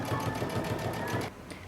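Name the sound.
sewing machine stitching along a cape neckline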